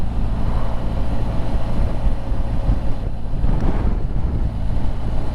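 Wind buffets the microphone in a steady loud roar that barely lets up, outdoors on a warm, blowy day out riding.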